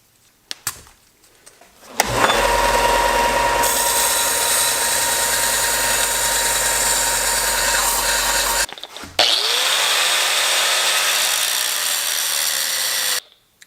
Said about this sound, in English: Yes, cutting aluminum with a grinder does suck.